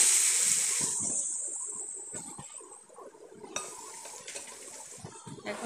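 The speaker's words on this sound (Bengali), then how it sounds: "এখন আমি একটু নাড়াচাড়া দিয়ে" Malabar spinach and pumpkin are stirred into fried onion in a cooking pan, with a soft sizzle that fades while spoon scrapes and clacks against the pan come in irregular strokes.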